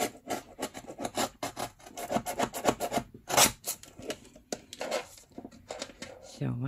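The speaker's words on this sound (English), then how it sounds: "cut these strips evenly on the sides on my guillotine to make it straight as much as I can" Newspaper strips sliced on a paper guillotine, close by: a series of dry, rasping cutting strokes with one sharp, loud slice near the middle.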